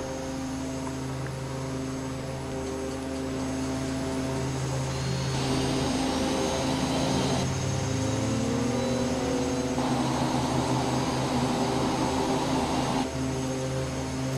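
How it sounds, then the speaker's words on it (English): The left jet engine of an airliner spools up during start in the X-Plane 11 flight simulator, a steady loud engine hum and whine rising in stages over a cockpit drone, no talking. "Now we'll go back and get the left engine."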